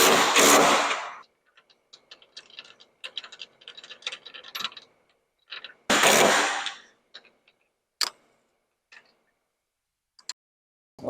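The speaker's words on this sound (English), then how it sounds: "A 10mm socket." Metallic clicks and clanks of a 10mm socket wrench at work during a SoFlo Slide N Lock installation, loud sharp bursts separated by quieter ratcheting ticks, close and without speech.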